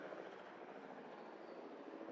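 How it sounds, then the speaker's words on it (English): A helicopter flies past TIO Stadium during a cricket match, heard as a faint, steady rumbling drone that stays level and distant. "As a helicopter flies by TIO Stadium."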